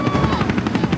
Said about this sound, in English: The helicopters belong to U.S. Marines who are on training maneuvers